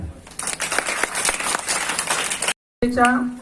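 Applause for a Class 3 schoolgirl at a Shivaji Maharaj birth-anniversary celebration in Nanded: a dense burst of clapping for about two seconds, cut off by a brief silence before a voice resumes.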